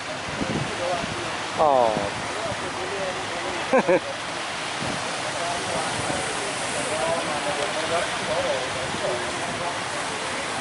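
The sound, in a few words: large ocean waves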